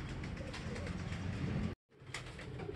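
Racing pigeons coo in low, repeated murmurs against a dense background of bird noise, broken by a brief moment of silence.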